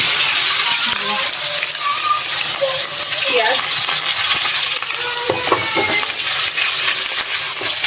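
Chopped onions and tomatoes frying in hot oil in a wok, a loud close sizzle with stirring scrapes and clinks throughout.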